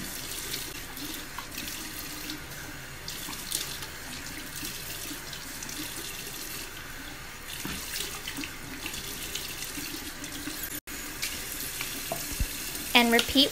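Tap water runs steadily into a sink while a face is wet and washed with cleanser. The flow is soft and continuous, with light splashing and a few brief clatters near the end and no voices.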